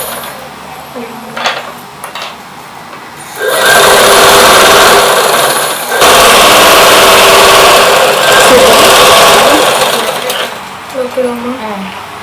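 A standard sewing machine winding a bobbin with the pedal pressed lightly whirs loudly in two bursts, stopping briefly between them, with quieter clicks and voices talking before and after.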